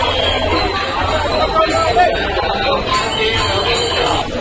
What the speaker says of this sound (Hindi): कुछ देखो है काफ़ी भीड़ है